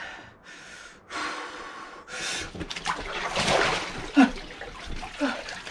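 Water splashing as someone lowers into an uncleaned cold plunge tub, sloshing and trickling mixed with sharp gasps and heavy breathing close by.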